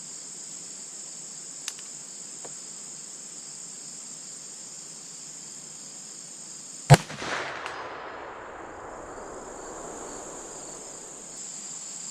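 A single loud boom from a CVA Optima V2 muzzleloader rifle, with a long rolling echo fading outdoors over steady cricket chirping and no talking.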